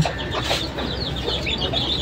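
A farm hen with newly hatched chicks clucks close by in a low, repeated pattern, with faint high peeping from the chicks around her.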